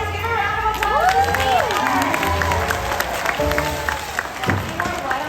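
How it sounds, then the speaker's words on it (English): An audience at a sea lion show in Orlando, Florida claps and cheers, with children shouting and whistle-like calls mixed into a lively, fairly close crowd sound lasting about five seconds. "Give her a round of applause."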